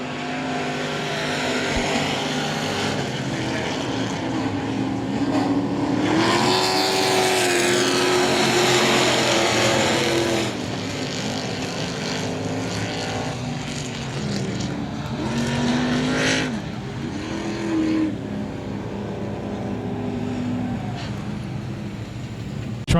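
Dirt track trucks race at I-37 Speedway in Texas, a loud, sustained pack of engines roaring and shifting pitch as they drive through the turns, some passing closer and louder, with no talking over the noise.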